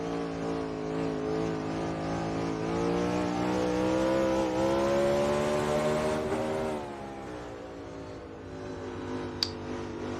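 A race car engine in the NR2003 racing game with the Fidanza next-gen sound pack drones on board at high revs, pitch climbing steadily then dropping off as the car lifts, loud and sustained.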